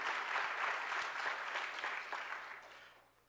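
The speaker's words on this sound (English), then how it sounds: "Just give them a round of applause so they can hear you" An audience applauds in a lecture hall, a short burst of steady clapping that holds briefly and then fades away near the end.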